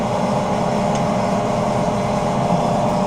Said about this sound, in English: this is the sound of my dust exhaust fan